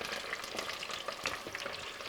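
French fries bubble and crackle in hot oil near 190 degrees, a dense, continuous fizzing sizzle at a moderate, even level with no voices.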